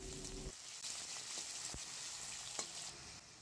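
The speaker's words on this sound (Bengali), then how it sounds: "আলুগুলো প্রথমে হালকা একটু ভেজে নেওয়া হবে।" Diced potato cubes frying in hot oil in a pan, a soft continuous sizzle with a few sharp scraping clicks of stirring, fairly quiet and without talk.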